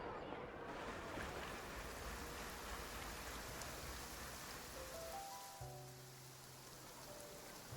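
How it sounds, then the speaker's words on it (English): Rainfall in the Genshin Impact video game, a steady soft hiss of rain with a faint watery wash, quiet and continuous, with a few soft chime-like tones near the end. "we're just chilling in the rain"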